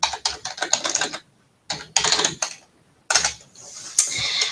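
Bursts of rapid typing on a computer keyboard while a web address is entered, several clattering runs of keystrokes separated by short pauses, close and fairly loud with no voices.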